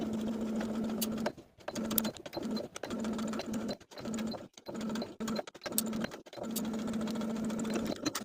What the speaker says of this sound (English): Then we can sew along the inner edges along the line that we traced onto the fabric.